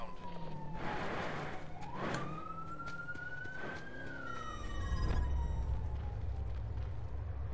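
A police car siren wails in Call of Duty: Black Ops 4 Blackout mode, one long rising and falling tone sweeping steadily over game noise and a rumbling engine, moderately close.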